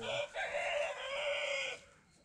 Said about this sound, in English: These chickens are so loud at times,